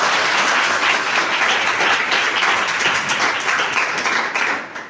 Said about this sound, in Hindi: तो हम चाहते हैं कि इनकी इस सफलता पर आप लोग जोरदार ताली बजा देंगे